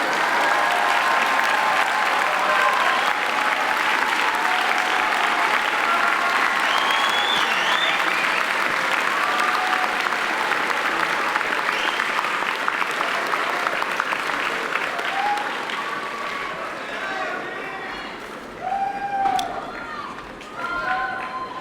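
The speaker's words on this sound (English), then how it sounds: "give them a round of applause and thanks." A large graduation audience at a business school commencement applauds for about twenty seconds, a dense roar of clapping that thins out toward the end as a few voices and bird-like calls come through.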